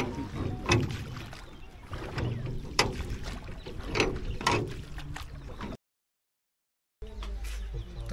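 A boat ride on the water at Tulapur, with a steady low rumble, splashing and scattered knocks up close, broken by a short silent gap near the end.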